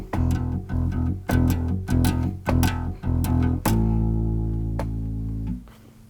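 A bass guitar plays the 6/8 tag of a rock song in a galloping 16th-8th rhythm, with loud, close plucked notes repeating before one long held note rings out and fades, with no talking.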